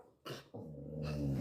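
A dog gives a short growl that runs into a longer low, throaty rumble, close and fairly quiet, with no talk.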